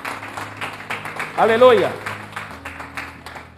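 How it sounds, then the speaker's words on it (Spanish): A church congregation applauds during a Spanish-language service, with scattered clapping blended under loud voices and a sung exclamation, the crowd noise fairly close and sustained. "Dale un fuerte aplauso al que vive y reina."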